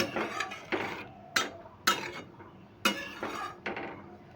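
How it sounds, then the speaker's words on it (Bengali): Masoor dal with added water is stirred in a pot with a metal utensil, giving a series of sharp clinks and scrapes against the pot, close and fairly distinct, with no talking. "একটু নেড়ে নিচ্ছি"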